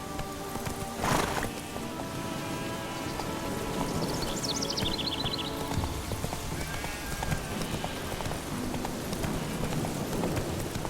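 Horse hooves clip-clop at a steady gallop in The Witcher 3: Wild Hunt, with a brief whinny partway through over a soft rainy background.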